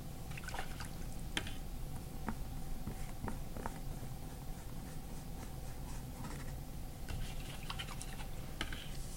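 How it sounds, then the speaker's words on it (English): A paintbrush is swished and rinsed in a water cup while painting, with faint quiet splashes, drips and small clicks, close and soft throughout. "And I rinse my brush and then clean it off a little bit more."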